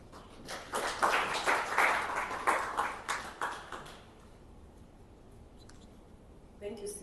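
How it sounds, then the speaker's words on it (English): Audience applause at a Kenyan IEBC electoral commission event, a burst of many hands clapping for about four seconds before fading into quiet room tone, with faint voices in the background. "Let's give him another round of applause"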